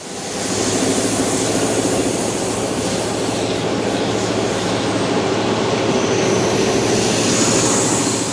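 A heavy diesel engine of a vintage MY diesel locomotive labours steadily and loudly climbing through a valley, a continuous low rumble with grinding mechanical texture that holds throughout without pause.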